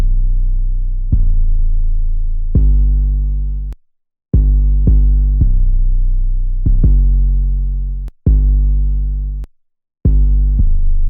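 An 808 bass plays a chopped bass piano pattern in a beat: deep, booming sustained notes that change pitch, come in a steady rhythm and cut off sharply, loud and on their own.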